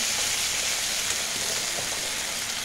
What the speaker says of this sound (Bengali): এই যে ঢেঁড়সটা ভাজা ভাজা হয়ে গেছে,